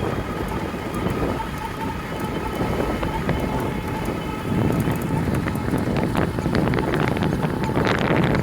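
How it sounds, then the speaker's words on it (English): Wind roars steadily across the microphone while riding an Addmotor M360 electric bike on a breezy day, a dense rushing noise that grows stronger toward the end. "it's a breezy day, as you guys can obviously tell with the wind"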